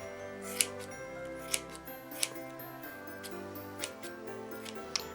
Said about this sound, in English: now we're going to take our scissors and we're going to cut all the excess on the sides